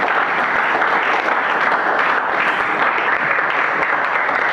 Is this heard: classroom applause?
yes